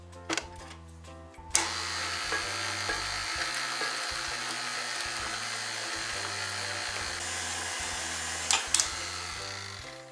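Electric stand mixer beating butter and eggs into batter for a Brazilian rolled cake, a steady whirring drone that starts about a second and a half in and runs on loudly with faint clinks.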